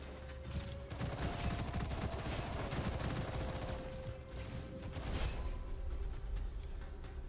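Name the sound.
machine gun fire in video game Metro: Last Light Redux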